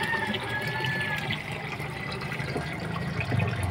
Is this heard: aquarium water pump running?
yes